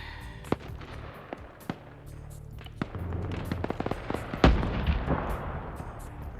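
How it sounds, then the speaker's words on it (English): Artillery barrage in a military simulation game during a Ukraine-themed charity operation: scattered sharp booms and cracks, one heavy near blast partway through, over a steady rumbling battlefield background with no talking. "Artillery fire mission."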